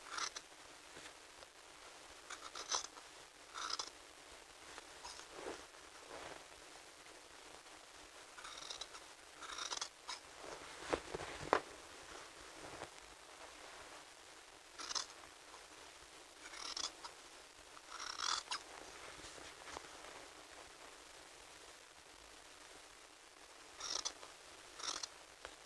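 Scissors snip through sewing fabric, following the edge of a seam allowance in a beginner sewing lesson: quiet, repeated short cuts in irregular bursts with pauses between, close but faint, with no voice.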